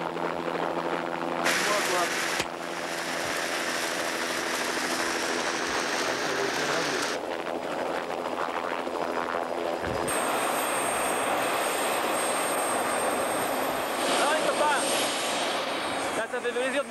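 A helicopter engine approaching over the Greenland ice sheet, a steady loud whine and rotor drone that persists throughout, with voices talking over it.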